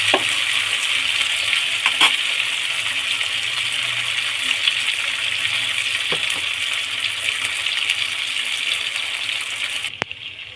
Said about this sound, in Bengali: মশলাটা দেওয়া হয়ে গেছে এবারে আস্তে আস্তে কষানো